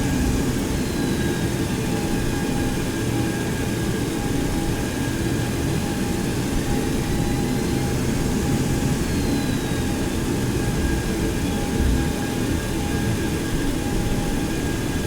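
A Boeing 727 in the X-Plane 11 flight simulator rolls onto the runway, its engines giving a steady, even rumble with a faint whine that lasts throughout and never rises or falls.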